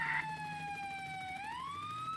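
An ambulance siren in the Roblox game ERLC sounds a steady wailing tone that dips and then rises again, heard alone at moderate volume.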